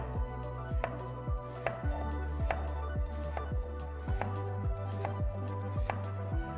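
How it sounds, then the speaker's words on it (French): A manual oil extractor pumps used oil out of a lawnmower engine with close, steady hand strokes, each giving a short squeaky thump, about a dozen in a regular rhythm. "et on va tout simplement pomper"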